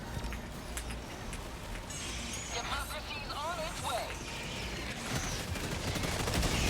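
An airstrike in a video game brings bursts of rapid gunfire and a fusillade of shots over rumbling engine noise, while a person talks throughout.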